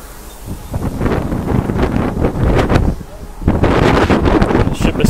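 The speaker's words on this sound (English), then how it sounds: "Sorry for all the wind." Strong wind buffets the microphone on a breezy day at Port Canaveral, a loud, continuous rumbling roar that surges in gusts, dipping briefly before swelling again toward the end.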